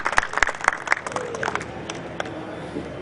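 A small audience at a Martyrs' Day function gives brief applause for a newly elected MLA, a handful of sharp claps near the start that thin out into scattered patter and low background noise.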